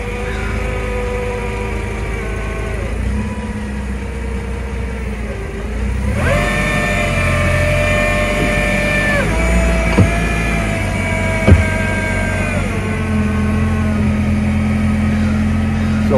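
A forklift with a rotating bin dumper attachment runs steadily, its engine humming close by while hydraulic whines rise and hold in pitch as the attachment rotates, with a couple of sharp clunks midway.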